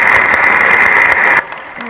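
An audience at a public speech gives loud, sustained applause that stops abruptly, leaving only faint background noise.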